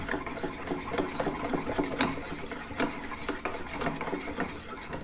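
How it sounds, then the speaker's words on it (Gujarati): Dhokla batter being whisked again in a bowl with a spoon, a steady rapid scraping and clattering rhythm of utensil against the bowl, close and continuous with no talking. "ફરીથી આને ફેંટી લઈએ।"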